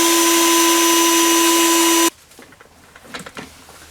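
A power drill runs a step drill bit into a car panel, a loud steady whine that stops abruptly partway through, followed by faint handling noises and small knocks.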